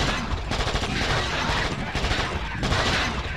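Rapid bursts of video game gunfire from King Kong on the PlayStation 2, loud and dense, with repeated volleys filling the whole stretch and brief gaps between them.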